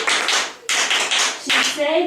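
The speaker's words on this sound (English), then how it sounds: "Can you clap for Dijan?" Children clap together in a classroom, several short bursts of dense applause split by brief pauses, close and fairly loud, with a teacher's voice heard briefly near the end.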